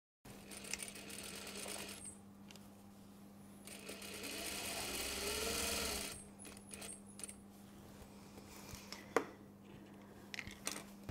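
Sewing machine stitching the lining of a cashmere jacket, a steady close whirring run that surges louder midway, with brief stops and small clicks around it.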